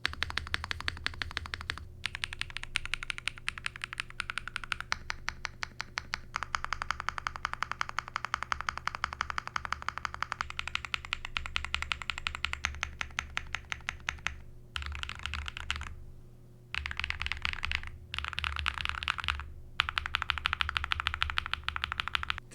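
Steady typing runs on a Transition Lite TKL keyboard, a close, dense stream of crisp key clicks with a few brief pauses and an occasional heavier key strike.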